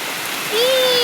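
Heavy rain pours steadily onto a courtyard with a tulsi platform, a dense, loud hiss of water striking surfaces throughout, with a brief high whistling tone rising midway.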